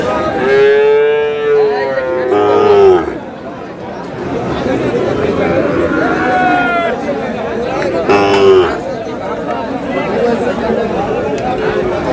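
A young Sahiwal bull calf, about eight months old, lets out a couple of drawn-out moos over a steady murmur of crowd chatter at a busy cattle market in Cumilla, Bangladesh.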